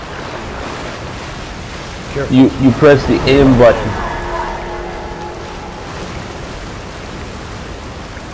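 Wading through water in Resident Evil 6, a steady wash of sloshing noise running the whole time, with one short spoken line midway.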